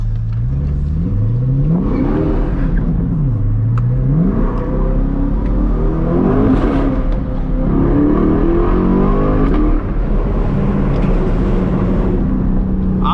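A straight-piped Chevrolet C8 Corvette at night in Miami, in track mode, loudly revs and accelerates through rising and falling gear sweeps, with crackling exhaust pops between pulls, heard close from inside the car.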